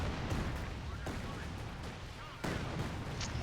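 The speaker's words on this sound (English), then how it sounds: "And Her Majesty's rockets coming down on the support weapons." Rocket artillery barrage striking support weapons in a World War II strategy game match, heard as a dense, continuous rumble of blasts and explosions with sharper hits near the start and again toward the end, under a commentator's voice.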